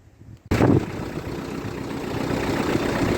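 A small tractor engine starts up suddenly after near-quiet and settles into a steady, close idle that runs on loud and even, with no talking.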